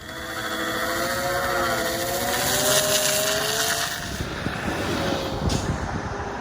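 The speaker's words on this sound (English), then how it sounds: "Crazy loud noise coming from this bike." An electric Hayabusa motorcycle built from scratch produces a loud, continuous whine with wavering tonal pitches, shifting into a rougher, buzzy drone partway through, close and sustained throughout.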